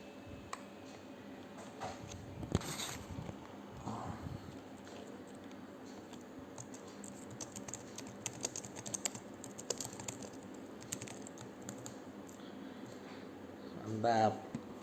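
Fingers tap away on a computer keyboard in quick, irregular bursts of soft clicks, mostly quiet and close, with a short louder clatter near the end.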